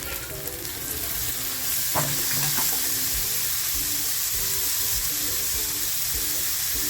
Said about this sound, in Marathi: आता जो टॅमॅटो बारीक करून घेतला आहे तो टॅमॅटो टाकते